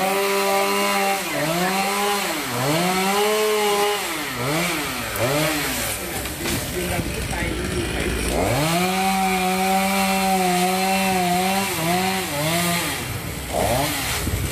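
A chainsaw roars close by cutting a breadfruit tree, its engine pitch dipping and rising repeatedly as it bites into wood, running continuously and loud.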